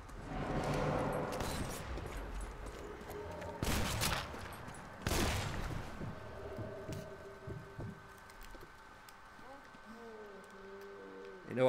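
Gunfire in the Sniper Elite 4 video game comes as a few sharp, loud shot bursts in the first half, followed by quieter game effects and hum, with a voice talking over parts.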